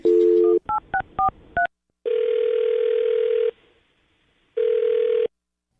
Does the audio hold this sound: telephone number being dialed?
yes